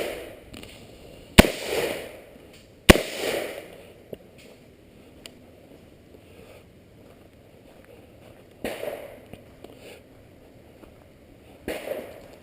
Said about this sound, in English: Not doing too bad for quick shots.